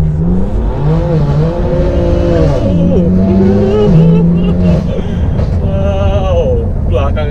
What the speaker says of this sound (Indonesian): Tadi bisa lihat gigi 1-nya langsung itu RPM-nya tuh ke atas karena bannya spin.